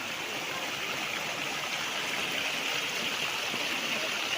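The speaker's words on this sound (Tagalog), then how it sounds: "At meron itong mga bukal mismo sa property." Spring water runs steadily on a hillside farm lot in Lucban, Quezon, a continuous close stream rush with a bright hiss and gurgle that stays even throughout, with no talk over it.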